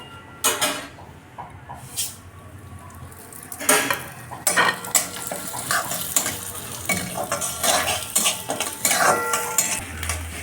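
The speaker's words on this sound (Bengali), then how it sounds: "চালটাকে এখন ভেজে নিব।" Gobindobhog rice dry-roasting in a pan with mustard oil for muri ghonto, stirred with a utensil: repeated scraping and clinking strokes against the metal, fairly close and moderately loud, with a soft sizzle underneath and no talk.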